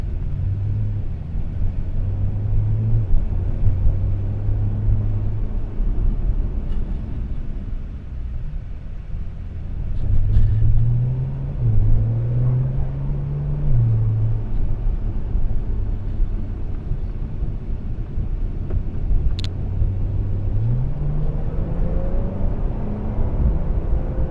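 A Porsche 911 of the 992 generation fitted with carbon ceramic brakes, under full braking: a loud, continuous low road and engine rumble with pitch shifts as speed changes, a few brief ticks, no voices.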